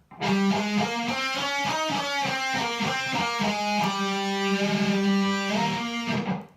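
Distorted electric guitar plays an alternate-picked run from a metal song, a steady stream of fast picked notes that climb and come back down, loud and alone with no talking.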